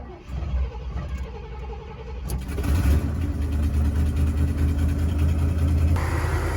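Close by, a 1978 Cadillac Eldorado 425 V8 with a Quadrajet carburetor on choke cranks and catches, then settles into a steady, loud low idle rumble.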